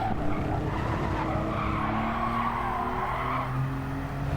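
Race car in Gran Turismo sliding through a corner with tyres squealing and skidding, a sustained loud tonal screech over engine drone, close and continuous with no talking.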